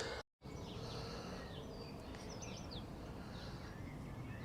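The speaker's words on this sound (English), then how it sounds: "Just hearing the birds singing" Birds chirp and sing faintly in a botanical garden in Sheffield, scattered high calls over a steady outdoor hum of wind and rustling leaves, with a brief dropout near the start.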